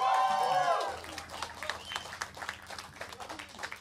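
Applause at an intimate living-room band concert as the bassist claps for himself, brisk scattered handclaps from a small group following a fading sung note, with a voice speaking over them.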